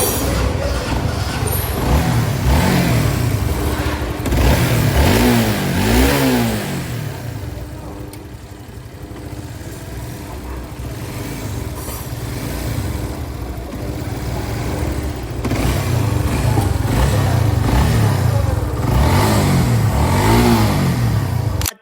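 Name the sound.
Honda CB150 motorcycle engine revving, throttle check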